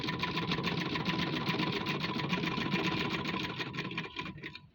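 A sewing machine stitches a border edge along a pressed crease in fabric, running in one steady, fast, close whir that slows and stops near the end.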